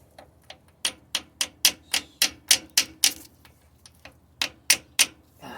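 A small hammer taps on a flathead engine part of a 1953 Ford Customline, a series of sharp, close metallic strikes, some in quick bursts and some spaced apart, with short pauses between groups.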